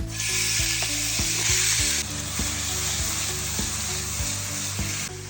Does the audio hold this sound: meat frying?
yes